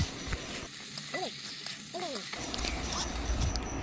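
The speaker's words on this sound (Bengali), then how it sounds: "তো সমস্ত মশলা দিয়ে এবার আমি ভালোভাবে কষিয়ে নেব।" Ginger, garlic, cumin and dried red chilli paste with tomato sizzles in a pan and is stirred with steady scraping, mixed with faint background noise and a brief gap where a voice-like warble cuts in.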